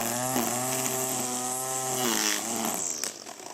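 A Ryobi 18V ONE+ cordless grass trimmer cutting grass, its motor whining loud and close with a steady high pitch that dips briefly as the line bites in, then fades toward the end.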